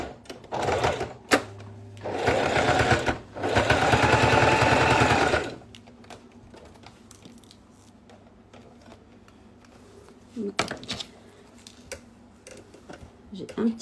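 Domestic sewing machine topstitching along the edge of a fabric school pencil case, running in two close bursts of rapid mechanical stitching, then stopping; quiet talk and small handling clicks follow.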